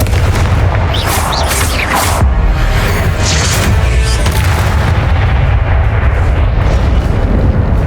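Confringo fire-spell blasts in the Hogwarts Legacy video game, loud booming explosions with crackling bursts early, followed by a sustained rumbling roar as the fiery aftermath lingers.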